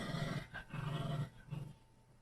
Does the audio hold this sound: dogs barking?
yes